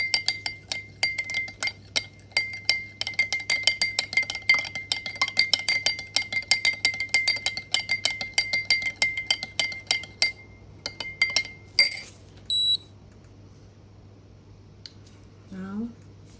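Cold brew coffee being stirred in a glass: a long run of rapid, steady clinks of a spoon against glass, fairly close, then a few scattered taps and a short scrape near the end.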